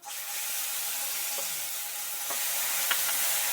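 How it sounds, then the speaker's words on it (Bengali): Onion paste hisses in hot oil in a wok as a loud, steady sizzle close by, with a few faint scrapes of stirring; no one speaks. "পেঁয়াজটা একটু ভেজে নিই।"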